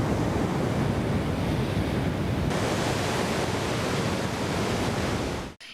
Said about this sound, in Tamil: ராட்சத அலைகள் மோதி ஏராளமான படகுகள் சேதமடைந்துள்ளன